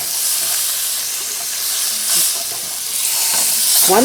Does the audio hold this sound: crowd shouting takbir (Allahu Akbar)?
no